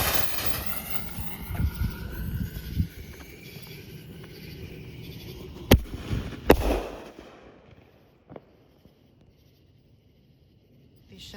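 Dream Team 12 firework shells burst as a few sharp, booming cracks spaced seconds apart over a low rumbling background. The rumble fades and a last softer pop rings out into near silence.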